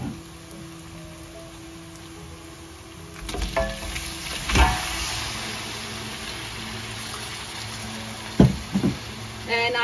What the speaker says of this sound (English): I'm going to add in the tofu now.